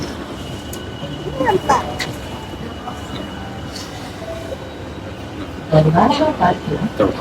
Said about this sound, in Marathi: आता मेट्रोमध्ये बसलो तर इथे पण शांत बसतच नाही